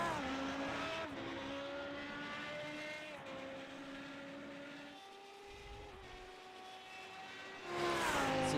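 A Radical SR8 race car engine in iRacing at Interlagos drones steadily and close, its pitch stepping up and down through gear changes and throttle work, then swelling louder near the end, with no talk.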